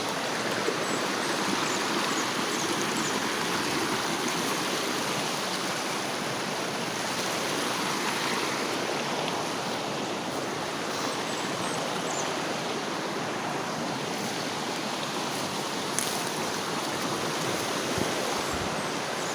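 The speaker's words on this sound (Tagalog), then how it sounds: "Andito ako sa Sapa ngayon." Creek water flows steadily over rocks, a broad continuous rushing wash, close and even, with no voices.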